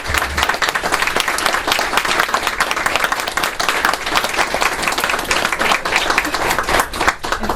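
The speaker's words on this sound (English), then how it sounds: "let's give them a round of applause" Sustained applause from an audience at a parole board meeting, steady dense clapping throughout, fairly loud and continuous without a break.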